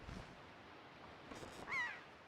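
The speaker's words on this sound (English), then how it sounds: "Do I have to kill all the birds, or can I leave this one?" A lone bird gives a short harsh caw in The Legend of Zelda: The Wind Waker. The call is faint and brief and rises over a quiet, hissy game background.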